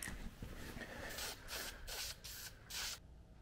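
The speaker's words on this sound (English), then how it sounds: "start spraying again over and over again" Aerosol spray paint hisses in several short bursts onto a car valve cover being given a wrinkle finish, each spurt close and steady with brief pauses between, no voices.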